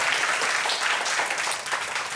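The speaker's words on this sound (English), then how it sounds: "Give yourself some applause." An audience applauding, a steady wash of many hands clapping at once, fairly loud and continuous for a couple of seconds with no voices over it.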